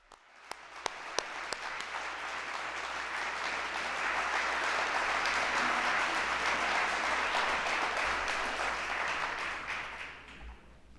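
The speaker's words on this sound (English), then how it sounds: "can we please give them all a round of applause?" A civic audience at a city address applauds council members, with a few early claps swelling into sustained, fairly distant crowd applause that fades after about ten seconds.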